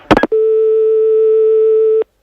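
A brief burst of voice gives way to one long, loud, unbroken telephone tone lasting nearly two seconds, from a call that fails to connect, ending abruptly in silence.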